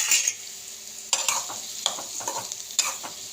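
Chopped ridge gourd fries in hot oil in a pan, giving a continuous crackling sizzle broken by several sharp scrapes and clinks of a stirring spoon.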